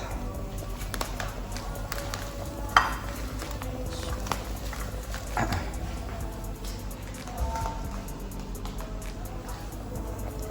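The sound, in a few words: frying floured meatless meatballs in a pan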